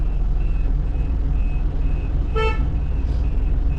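A large goods truck reverses, with one short electronic reversing beep sounding over a loud, steady engine rumble, and no voices over it.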